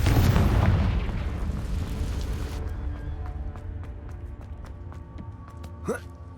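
A Confringo fire-spell explosion in Hogwarts Legacy: a loud booming blast at the start that rolls off into a fading rumble, followed by scattered faint crackles and a short sweeping whoosh.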